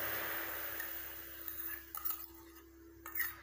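Natural hair dye gel made with karpooravalli leaves and hibiscus flowers, poured and stirred in an iron kadai on a stove: soft scraping and a few light metallic clinks, faint and close, with no talking.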